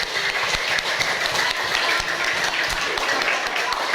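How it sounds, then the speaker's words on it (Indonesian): Classmates clap for a group of students after their presentation in a classroom, a lively rapid patter of many hands held at an even, fairly close level throughout. "beri tepuk tangan untuk teman-teman"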